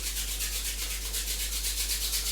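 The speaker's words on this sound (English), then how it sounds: "So you're going to rub your hands together." Hands rubbed together in a quick back-and-forth rhythm during a qigong exercise, giving soft, close swishing strokes that repeat about five times a second over a low constant hum.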